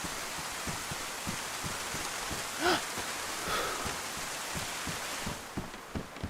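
Steady rain in the survival video game DayZ, a dense hiss of falling drops with soft rhythmic low thumps beneath, faint and continuous, with no talk.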